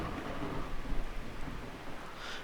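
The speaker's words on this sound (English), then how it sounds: "This is the heavy rain, thunder, tornado pattern." Heavy rain hisses steadily with low rumbling thunder underneath during a thunderstorm in the survival game Miscreated, a dense continuous wash of moderate loudness with no voices.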